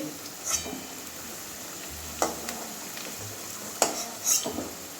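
Potatoes frying in oil in a pan make a soft continuous sizzle, broken by a few brief scraping clinks of a utensil against the pan.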